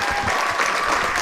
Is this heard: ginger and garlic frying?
no